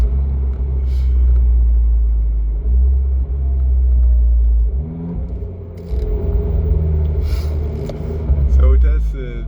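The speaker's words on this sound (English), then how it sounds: "So it has this type of sports car sound." Deep, steady engine rumble from an Abarth 595c convertible (Fiat 500-based, MTA gearbox) fitted with a stage 2 Record Monza sports exhaust, heard close up from inside the car, with a voice briefly over it near the end.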